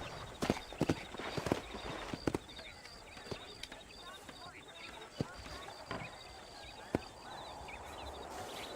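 Horse hooves clip-clop unevenly in Red Dead Redemption, a string of sharp hoof strikes at moderate distance, with someone talking over the game sounds.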